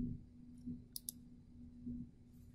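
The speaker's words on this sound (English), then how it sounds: "Then click on Avatars and select your avatar." Two quick, sharp mouse clicks close together while selecting an avatar in Microsoft Teams, set over a steady low electrical hum with faint background rustle.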